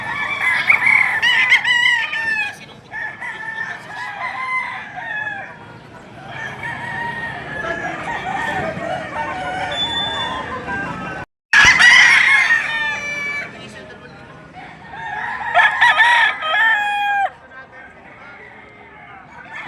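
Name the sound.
roosters crowing at chicken market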